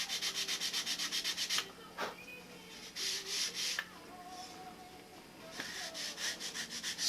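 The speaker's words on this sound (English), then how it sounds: "Take a little sanding block, even off the edges" Rhythmic back-and-forth scraping of a sanding block on wood, in quick bursts separated by brief pauses, close and fairly quiet.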